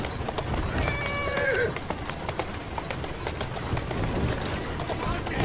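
Rhythmic video game horse hoofbeats from Assassin's Creed Syndicate clip-clop along at a steady walking pace, with a faint voice and a brief whinny-like tone in the background.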